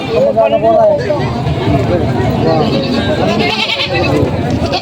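Several goats bleat repeatedly amid a noisy crowd at a goat market in Padre Garcia, Batangas, with people haggling, talking and chattering close by throughout.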